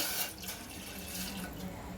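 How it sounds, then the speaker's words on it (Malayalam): A short stream of water pours into a pan, a steady close splashing rush with no voices. "ഒരു ഗ്ലാസ് വെള്ളം ഒഴിച്ചു കൊടുക്കുകയാണ്"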